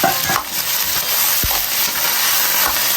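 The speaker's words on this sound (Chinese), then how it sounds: "加入肥肠，煸炒一下" Pork intestines stir-fried in hot oil in a wok, a loud, steady sizzle and hiss with scraping stirs and occasional clanks of the spatula against the pan.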